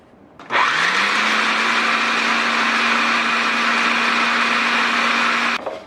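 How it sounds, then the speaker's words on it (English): A blender switches on abruptly to puree salt at the start of a basil pesto and runs at a loud, steady, high whir for about five seconds before cutting off. "that's the first thing I'm gonna sort of puree before we get to that freshly picked basil over there"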